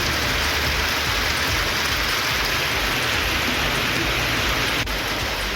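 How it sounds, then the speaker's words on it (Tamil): Heavy rain pouring down in Manamadurai, a dense and constant loud hiss of water striking surfaces that holds steady throughout with no voices. "மானாமதுரையில் கனமழை பெய்தது"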